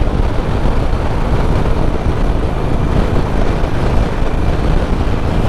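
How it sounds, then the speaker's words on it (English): Loud, constant wind buffeting and roaring across the mic, mixed with steady road and engine rumble from riding a Harley-Davidson Sportster 1200 Iron at speed in fourth gear. "Man, it is windy."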